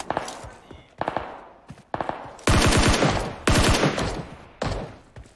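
Automatic gunfire in PUBG Mobile, several loud close bursts of rapid shots separated by short pauses, the later bursts longer and fuller, with no talk over them.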